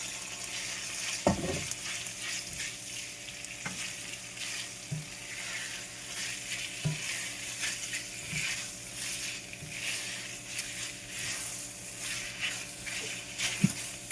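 Noodles frying in a hot pan give a steady broadband sizzle with occasional stirring clatters and soft knocks, fairly close and continuous with no talking.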